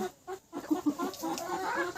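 Domestic red desi chickens cluck in short repeated bursts, close and fairly clear, several birds overlapping in a busy, chattering rhythm.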